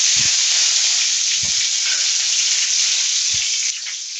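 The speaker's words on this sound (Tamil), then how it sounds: "இப்போ கருவேப்பிலை போட்டுக்கிறேன்." Curry leaves frying in hot oil for parotta salna, giving a loud, continuous sizzle and hiss with a few soft thumps of stirring.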